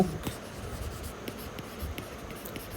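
A pen writing on paper, producing soft, faint scratching strokes close by, with short irregular pauses between them.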